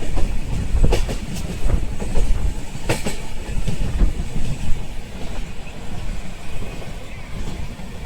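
A moving train in the Konkan region at the start of the monsoon rumbles along with rhythmic clacking of wheels on rails, a steady loud drone and faint voices underneath.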